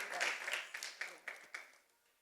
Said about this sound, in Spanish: let's welcome Dr. Flor Miranda